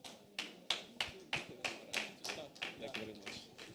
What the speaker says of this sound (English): So please, with a clap offering, please, a clap offering.